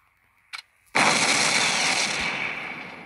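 Main guns of an O class battlecruiser firing in the World War Battleship game: a short faint pop, then one heavy blast that swells into a long rumbling roar, slowly fading, with no voices.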